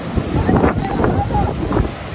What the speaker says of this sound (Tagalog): Ayan na, ang lakas ng alon.